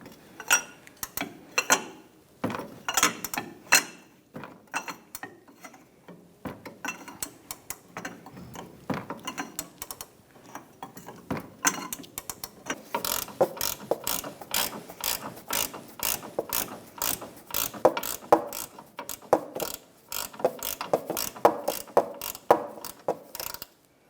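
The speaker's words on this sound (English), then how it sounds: "19mm socket for this lower nut on this sway bar link, we're going to crack it loose" 19mm socket on a ratchet loosening the lower sway bar link nut on a 2014-2019 Kia Soul, rapid close clicking pawl strokes in bursts, getting faster and denser toward the end.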